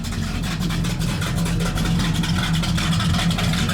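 A 1970 Pontiac GTO muscle car with dual exhaust runs close and loud, its engine holding a steady, throaty rumble with slight pulsing, no talk over it.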